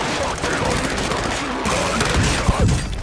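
Rapid bursts of gunfire crackle through a Call of Duty: Modern Warfare 2 match, dense and continuous with a few heavier thumps, under a busy game mix.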